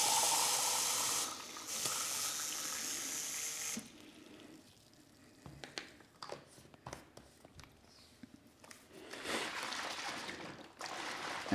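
Water runs from a tap into a drink bottle for a sports fuel mix, a loud steady hiss for a few seconds, then stops, followed by scattered clicks and handling sounds and a second burst of running water.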